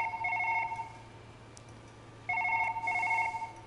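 A telephone rings in a VR video game: two bursts of an electronic double-tone ring, a gap of quiet room hum between them, fairly clear and close.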